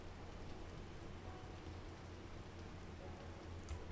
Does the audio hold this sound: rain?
yes